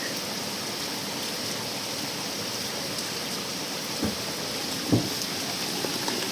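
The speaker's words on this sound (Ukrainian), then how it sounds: "Що до нас прийшов дощик" Steady rain falls on a homestead during a downpour, a dense even hiss with a couple of brief louder knocks near the end, no voices.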